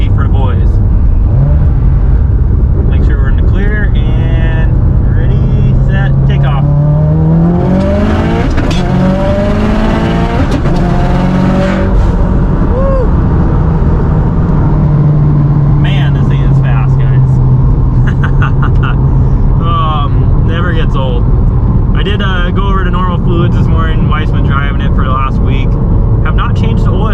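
A Subaru STI with a stock engine and an FP Zero turbo accelerates hard on a road, its engine note climbing through the gears with a whooshing surge in the middle, while people talk over it inside the car.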